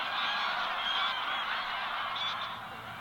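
A large flock of geese honking continuously at a shoreline as the tide comes in, a dense, loud wall of overlapping calls with no talking.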